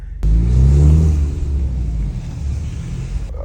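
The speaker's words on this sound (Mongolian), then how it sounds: "Та нартай би баг зэрэг энэ моторын дуу мөг бас сонсоё гэж бодоод байна" A car engine revs up close and loud with a deep rumble, then settles into a steady lower idle that runs on for a few seconds before cutting off.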